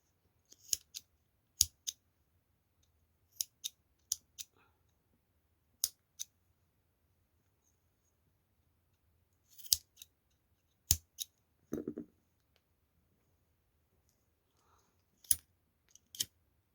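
Scissors snipping macramé cord, a string of short, crisp clicks scattered through a quiet room with pauses between cuts, close and clear with no talking.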